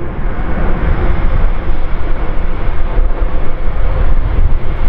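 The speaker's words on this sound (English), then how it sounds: "The noise levels of these big airliners have been reduced over the years" An Airbus A380 airliner passes at an airshow, and its jet engines make a loud, steady broadband roar that fills the whole stretch without letup.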